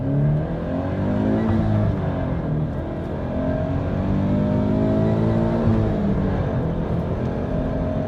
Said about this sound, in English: Let's do a pull on the Supercharged